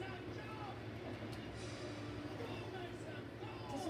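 A train in a Call of Duty video game, a steady low rumbling drone with faint rattling, continuous and moderately loud throughout.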